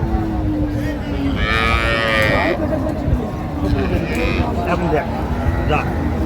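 Cattle, cows and calves, moo a few times, deep and drawn out, amid a busy crowd with people talking nearby at a livestock market in Raniganj, Dinajpur.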